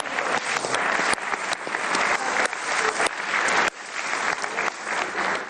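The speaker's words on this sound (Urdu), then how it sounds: "تالیاں بجائیے پاکستان کو" A live audience at the comedy show Harna Mana Hai applauds after Pakistan's loss to England in the T20 World Cup: thick, loud, continuous clapping from a big crowd, with a couple of brief dips.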